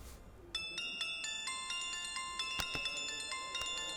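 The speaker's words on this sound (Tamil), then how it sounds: "ஃபோன் அடிக்குது" A phone rings with a repeating electronic ringtone: bright, steady chiming tones start about half a second in and continue clearly and fairly loud, with no talking over them.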